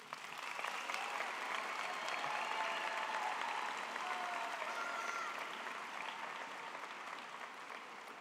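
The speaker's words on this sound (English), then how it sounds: "Please give a round of applause to these very special people." Steady applause for the faculty at a high school graduation ceremony, a large audience clapping continuously and evenly for the whole stretch, moderately distant and fading slightly toward the end.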